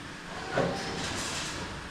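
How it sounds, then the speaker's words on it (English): The door of a robotic cow-milking machine opens with a brief mechanical clunk and airy hiss, followed by a steady whooshing sweep of motor and air noise at moderate loudness. "So it's going to put the cups back, open the door,"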